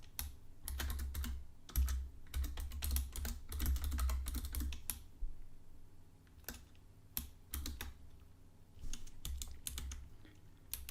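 Rapid bursts of typing on a computer keyboard while writing Python code for a simple login system, clicking keys in quick clusters with short pauses between, close and clear with no talking.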